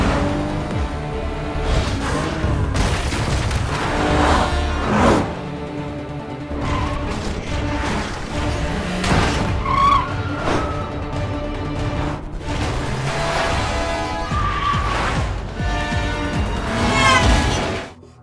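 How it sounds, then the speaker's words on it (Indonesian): Cars in a gangster-and-police chase scene, with engines roaring and tires skidding, buried in a loud, dense mix of dramatic music and impacts that runs unbroken for the whole stretch. "Ia pun segera menancap gas untuk pergi dari sana. Aksi kejar-kejaran mereka pun tak terhindarkan."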